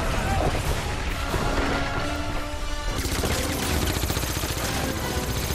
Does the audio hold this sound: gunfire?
yes